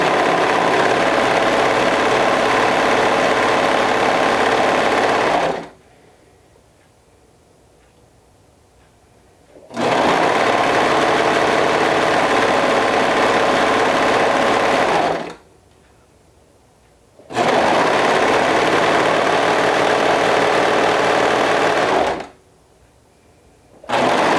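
A sewing machine stitches along the long edge of fabric in loud, close bursts of steady whirring, with three pauses of near silence between the runs.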